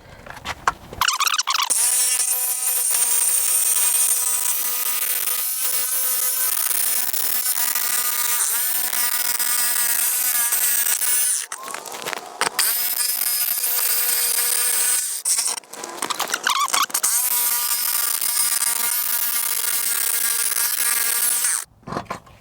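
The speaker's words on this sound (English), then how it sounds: "now we're going to cut down to the bottom here, and we're going to follow it along, and we'll take this whole opening out" A power saw cuts a mail slot opening through a garage door, a loud close whining buzz broken by two brief pauses and a final stop.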